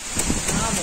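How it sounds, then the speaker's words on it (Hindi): Heavy rain pours steadily outdoors in Bhopal, a dense close wash of falling water throughout the short moment. "बारिश इतना तेज हो रहा है"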